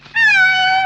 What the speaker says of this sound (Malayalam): പൂച്ച